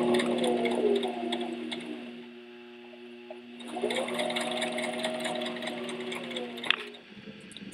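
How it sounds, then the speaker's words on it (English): Sewing machine stitching bias tape along a curved armhole edge, a steady whirring hum that runs continuously, drops away briefly in the middle, then resumes, close and fairly loud. "So you can see that I've stitched all the way along the armhole edge in the curve"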